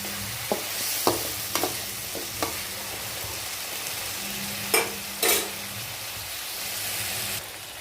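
Chopped bottle gourd and tomato sautéing in a pan for sambar, a faint even sizzle with a handful of scattered spoon scrapes and taps, close but quiet, no voices.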